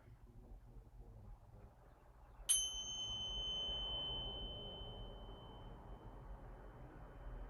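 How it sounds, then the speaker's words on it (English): A single bell struck at the close of a gentle yoga practice, one clear ring with a high sustained tone that slowly fades over several seconds in a quiet room. "Here's the sound of the bell."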